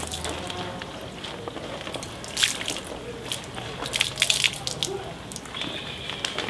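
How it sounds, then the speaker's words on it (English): A Scrubba travel wash bag full of wet clothes and water being squeezed by hand, giving soft close sloshing and squishing with a few louder wet bursts, no talk. "Give it a good squeeze."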